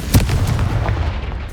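A Confringo spell explosion in Hogwarts Legacy lands as one loud, close, booming blast that rumbles and slowly fades.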